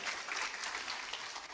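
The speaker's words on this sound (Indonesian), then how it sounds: "Tepuk tangan Bapak Ibu sekalian." Audience applause at a seminar, a steady wash of clapping heard at moderate distance, fairly quiet and even throughout.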